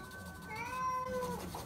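A cat gives one drawn-out, wavering meow, close and fairly faint, with no talking over it.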